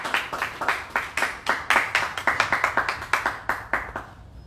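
Rhythmic hand clapping from a congregation at a church service, roughly twenty sharp claps in a steady beat, loud and close, gradually thinning toward the end.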